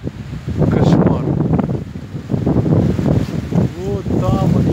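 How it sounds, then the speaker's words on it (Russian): Heavy wind buffets the microphone with loud, continuous low rumble and gusts, while a person talks over it throughout. "Ветер не дает не то, что говорить"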